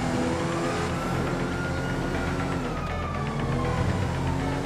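Police car sirens wail continuously through a chase in Grand Theft Auto V, their rising and falling tones layered over loud engine roar and traffic noise.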